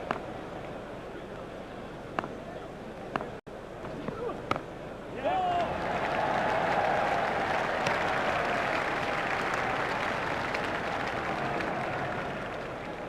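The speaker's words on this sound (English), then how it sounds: "raises his bat to the crowd to acknowledge the applause" A cricket crowd at Lord's during an England vs Australia one-day international breaks into sustained applause that holds steady for several seconds, while a commentator keeps talking over it.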